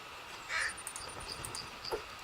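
A bird caws a few times at moderate distance in The Forest survival game, sharp calls over a quiet ambient background, with one louder call early on.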